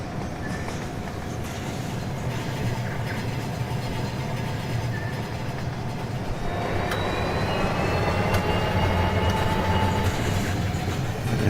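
A long train in a railway game rolls past steadily, wheels rumbling and clacking with faint squeals, the noise continuous and building slightly louder toward the end.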